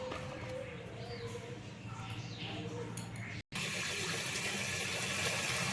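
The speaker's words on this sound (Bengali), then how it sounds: "কুমড়োটাকে ধুয়ে নিই।" Water runs steadily from a tap as pumpkin pieces are rinsed, with a brief cut midway before the flow resumes more strongly.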